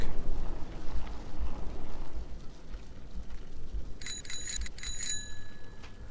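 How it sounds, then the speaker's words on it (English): A bicycle bell rings in a quick burst of bright metallic dings near the end, following a stretch of low rumbling background noise. "Love my bell."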